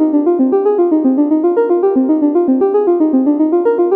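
A synth voice in Bitwig's Grid plays a 16-step sequence, with short, evenly spaced notes stepping up and down in pitch in a fast, steady loop, loud and clean with no other sound.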